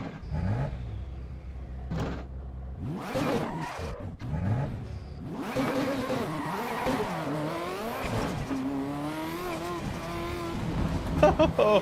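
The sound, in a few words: race car engine in Assetto Corsa EVO video game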